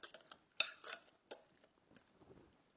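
Spoon clinking and scraping as guacamole is mixed in a bowl, a few sharp knocks and scrapes spaced irregularly, close and fairly quiet with no talking.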